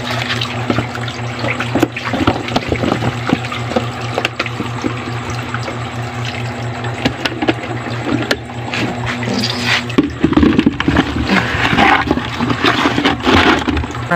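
Water runs and pours into a bucket while washing, a steady loud splashing flow throughout with a low mechanical hum in the first part, then a rougher, brighter gush toward the end.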